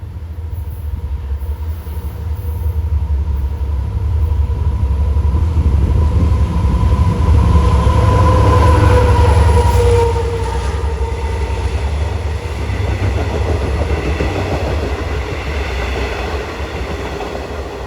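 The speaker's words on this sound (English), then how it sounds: "here comes train 560 from Long Island City to Oyster Bay." A Long Island Rail Road M9 commuter train passes close by at rush hour in Kew Gardens, a loud rolling rumble with wheel clatter that swells to a peak midway and then slowly fades.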